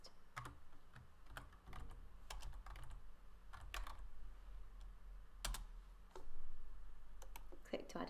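Soft keystrokes and mouse clicks on a computer keyboard come in irregular bursts, close but quiet, under a voice that talks throughout.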